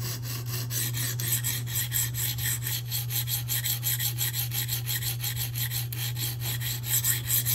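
A Spyderco Police 4 knife in K390 steel being reprofiled on a sharpening stone, with steady rhythmic rasping strokes back and forth, close and moderately quiet, no talk.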